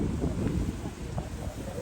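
Soft, steady cool wind buffets the microphone with a low, rumbling gust sound and no other clear sounds, in hill country at Panchgani.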